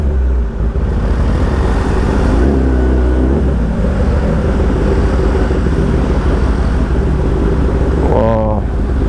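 Dense morning road traffic of motorcycles and cars rumbles loudly and steadily throughout, heard from a rider amid the bikes, with a brief horn-like tonal blip near the end.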